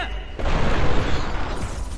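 Gunfire rings out in The Matrix: Path of Neo video game on PS2/PC, a loud, continuous barrage of bursts and booms lasting about two seconds, with a voice partly audible over it.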